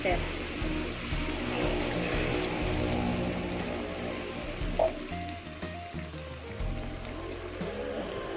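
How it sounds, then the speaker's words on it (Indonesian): About 100 ml of water hits a hot pan while grilled chicken is being made, giving a steady hissing sizzle like rain on a surface, moderately close, with a voice talking over it. "Kita tambahkan air 100 ml."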